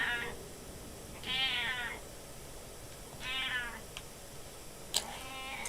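A cat meows several times, three drawn-out, fairly close meows spaced a couple of seconds apart, then a shorter sharp one, over a constant hiss of background noise.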